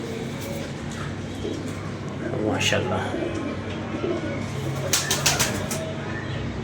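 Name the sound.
pigeons cooing and flapping in a loft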